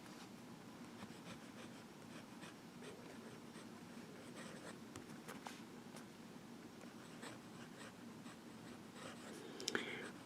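A Visconti Mirage fountain pen with a medium nib scratches softly across paper in a quiet, close scratching that stays faint and even, with light rustles and no speech.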